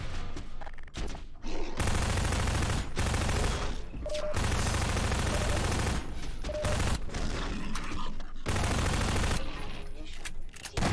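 Rapid bursts of SMG fire in Half-Life 2 rattle loudly in several long stretches separated by brief pauses, with a voice talking between bursts.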